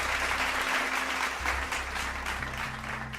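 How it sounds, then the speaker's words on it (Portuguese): A small group claps steadily for a few seconds, close and moderately loud, with low hum underneath. "Palmas pro Guilherme"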